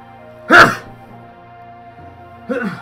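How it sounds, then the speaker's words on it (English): A loud, sharp sneeze bursts out close to the microphone, followed a couple of seconds later by a quieter vocal sound, with a faint tonal hum underneath. "I'm a really loud sneezer"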